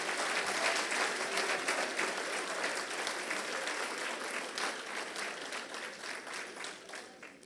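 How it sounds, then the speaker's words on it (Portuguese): Church congregation breaks into a big, sustained round of applause, dense and steady clapping from many hands that gradually tapers near the end. "Agora eu quero um aplauso bem grande para essa verdade."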